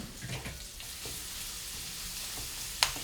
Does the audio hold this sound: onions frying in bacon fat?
yes